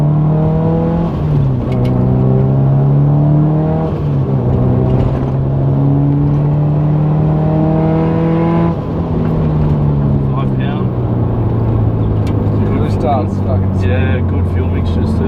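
A car engine revs loudly and steadily while driving, the pitch climbing and dropping through gear changes, with voices speaking over it.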